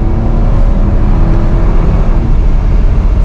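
A Toyota Supra MK4 engine pulls hard under throttle, a steady, loud, close roar of engine and road noise with no talking.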